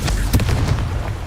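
A Confringo spell explosion in Hogwarts Legacy lands as a loud, near, low boom with a brief burst, then a rumbling tail that fades over about a second.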